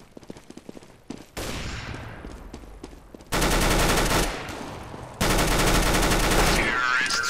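Rapid automatic gunfire in Counter-Strike: GO comes in loud, dense bursts. Sharp single shots come first, then two long sustained volleys of fire.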